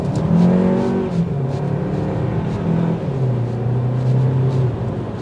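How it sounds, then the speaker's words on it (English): A 2024 Hyundai Kona N-Line pulls away from a green light, its engine note rising steadily through the gears with audible shifts, heard from inside the cabin with road noise underneath. "Off the line from a green light."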